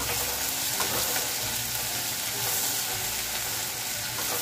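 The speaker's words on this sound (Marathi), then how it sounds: "हे सगळं व्यवस्थित तडतडलं" Hot oil sizzles and crackles steadily as spices with crushed ginger, garlic and green chilli splutter in a pan, a dense continuous frying hiss with scattered pops, close and fairly loud.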